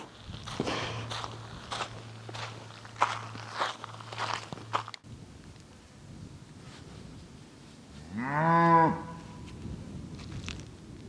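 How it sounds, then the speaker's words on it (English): A large horned cow in the Arizona desert lets out one loud, drawn-out moo at close range after several seconds of crunching footsteps on dry ground, with no talking. "It's a massive cow with huge horns. I was taking a nap. Earlier, and I heard all of this mooing"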